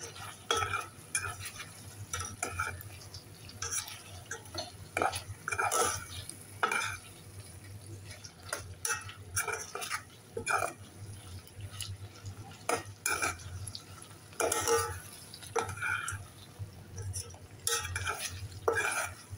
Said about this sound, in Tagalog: Kailangan ko siyang haluin kasi pag hindi ko hinalo, yung ilalim lang yung maluluto.